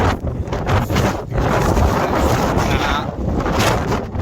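Strong wind on a mountaintop on the Appalachian Trail roars and buffets the microphone steadily, with brief dips between gusts; no one speaks.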